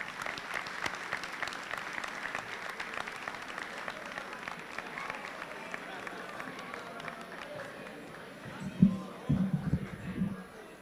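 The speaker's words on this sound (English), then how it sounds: "Let's give him a round of applause." Applause from a school pep rally crowd, a thinning patter of clapping that fades over several seconds, then a few loud close knocks or thumps near the end.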